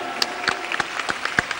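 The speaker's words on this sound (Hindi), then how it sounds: "ऐसी तालियां बजाओ कि देश की करीब आधी आबादी का अभिनंदन" An audience at a Hindu new year celebration program bursts into scattered applause, a dense patter of many claps with sharper individual hits standing out against a steady background.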